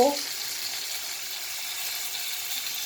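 Cumin, mustard seeds, asafoetida, curry leaves, pepper and capsicum sizzling in hot butter for chirer polao, a steady bright hiss after a brief clatter at the start.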